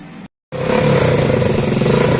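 A motorcycle engine, freshly wired with a 5-pin regulator and 4-pin CDI, catches after a short gap and runs loud and close with a rapid, steady putter.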